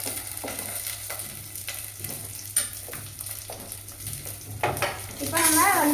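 Onions fry in a pan for chicken curry, giving a steady close sizzle broken by scraping stirs and light clinks of utensil on cookware.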